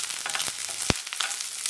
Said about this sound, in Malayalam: 1 സവോള ഇട്ട് കൊടുക്കാം. 2 പച്ചമുളക്, ഇത് വെളുത്തുള്ളി. അത് സോഫ്റ്റ് ആക്കി എടുത്താൽ മതി